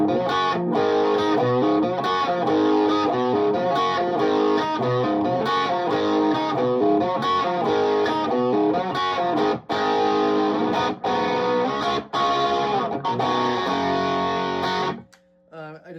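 Electric guitar played through a StewMac Ghost Drive overdrive pedal into a clean amp, giving a warm classic rock overdrive tone; a loud, continuous run of strummed chords and riffs that stops abruptly near the end.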